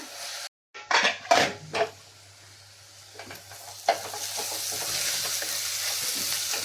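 Onions sautéing in a pan for Kerala-style chicken curry, with a steady sizzle that builds and holds, broken early by several loud clanks and scrapes of a utensil against the pan.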